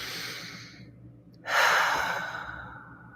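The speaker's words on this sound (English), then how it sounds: "Take another cleansing breath." Deep cleansing breath during a guided yoga relaxation practice: a soft breath in, then a pause and a loud, long exhale that fades out slowly, close to the mic, with no talking.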